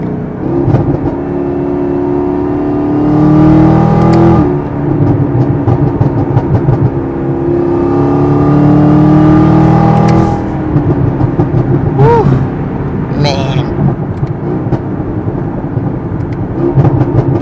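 A tuned Chevrolet Camaro ZL1 engine drones loudly as it accelerates, with a couple of surging revs and downshifts, and a brief whine near the end.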